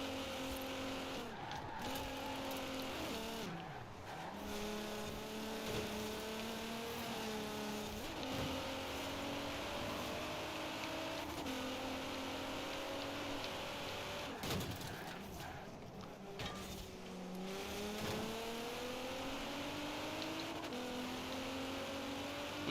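Race car engine in a Forza racing video game, a continuous high revving whine that climbs and drops with gear shifts, tires squealing through corners and brief dips between shifts, steady and prominent across the whole stretch.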